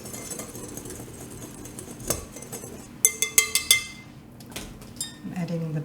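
A utensil stirs salt into flour in a mixing bowl for German beer crescent rolls, with a few sharp clinks against the bowl clustered in a quick burst amid quieter scraping.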